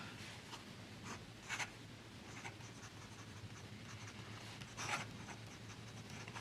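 A Lamy Peridot Crystal-series fountain pen with a medium nib writes on paper, a soft close scratching with short strokes and a few brighter scrapes, faint and steady.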